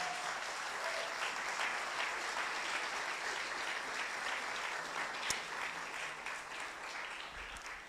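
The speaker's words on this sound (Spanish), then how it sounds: "Vamos a darle un aplauso al Señor." A church congregation claps for God during a worship service, a continuous wash of fairly distant applause with no break, joined by one sharp knock midway.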